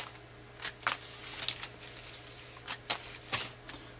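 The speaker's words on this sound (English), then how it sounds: "So we're going to go through and we're just going to trim all of these off." Plumeria cuttings trimmed of their leaves give off a series of soft, crisp snips and rustles, irregularly spaced and fairly close, over a faint low hum.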